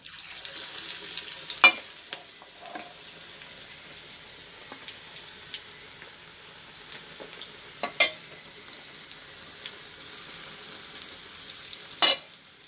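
Cauliflower pieces fry in hot oil in a pan, a low steady sizzle with a few sharper pops and clicks scattered through it, heard alone with no voices.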